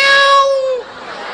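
A person imitates a cat with a single drawn-out meow, loud and close, tapering off in about a second.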